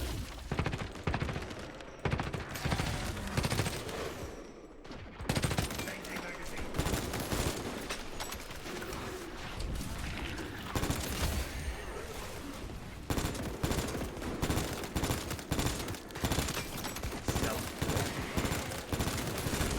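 Bots firing guns in a video game, dense continuous volleys of gunfire and rapid automatic bursts filling the whole stretch, with a person talking over the barrage.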